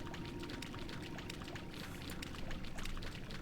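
Splashing, pouring water from a character walking across a river in World of Warcraft: Wrath of the Lich King Classic, a steady continuous wash of sloshing with no talk.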